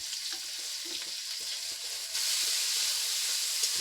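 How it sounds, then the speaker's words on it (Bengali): Chopped medium onion fries in a pan with a continuous close hiss and crackle that swells louder and denser partway through, with soft stirring movements and nobody speaking. "পেঁয়াজটাকে খুব সুন্দরভাবে ভেজে নেব।"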